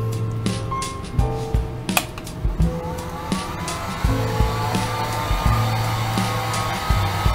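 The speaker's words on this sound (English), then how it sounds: "So I'm going to grab my heat gun, and it's as simple as this. I turn this on" Heat gun blowing hot air while shrinking new wrap onto a battery, a steady close whooshing fan hum with a tonal motor whine, punctuated by clicks and handling noises throughout.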